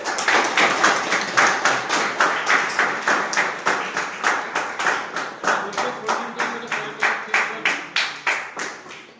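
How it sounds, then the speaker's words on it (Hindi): A group claps in unison for a school science practical on electric circuits, delivering a long run of steady, rhythmic claps, loud and close, with brief voices mixed in. "अरे कुंजा पे गोटे बड़ ताली दिया गोटे"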